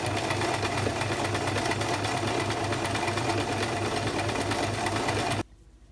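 A sewing machine fitted with a gathering foot stitches a ruffle, giving a steady, close, continuous mechanical whirr with a fast regular pulse that stops abruptly near the end.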